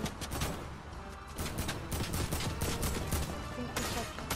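Sustained bursts of rapid gunfire in Fortnite, a steady rattling fusillade of repeated shots at moderate level throughout, with faint voices mixed in.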